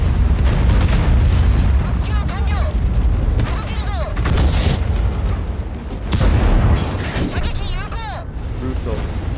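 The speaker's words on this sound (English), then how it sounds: "Oh gosh, the artillery can get me." Artillery shells burst in a World of Tanks battle, several deep booming explosions in succession with rumbling tails, loud and close, mixed with whistling and crackling combat noise.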